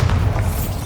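A Bombarda spell explosion in the video game Hogwarts Legacy, a short, loud, low booming blast heard close and alone.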